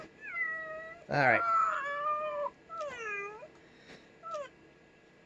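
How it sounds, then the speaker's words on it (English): A cartoon cat from the Neko desktop cursor program meows repeatedly, several drawn-out synthetic meows of varying length, fairly loud and close, with a brief spoken phrase in between. "That cat has meowed more in the last 2 minutes than my actual calico did in its entire 6 years on this planet."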